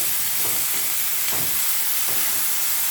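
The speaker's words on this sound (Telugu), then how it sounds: "ఇలా వేయించుకోవాలండి" Chopped fenugreek leaves and onions fry in a pan for a jowar kudumulu breakfast, giving a steady close sizzle and hiss with a few soft stirring scrapes, no talking.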